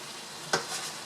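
Shrimp and other ingredients sautéing in a pan for a bean sprout dish, a steady hiss of frying with one sharp scrape or clatter partway through.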